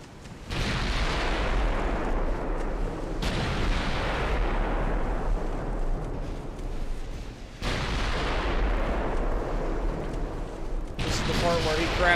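Warship secondary guns firing in the naval game Ultimate Admiral Dreadnoughts, a few heavy booming blasts at intervals, each rolling into a long, loud rumbling decay.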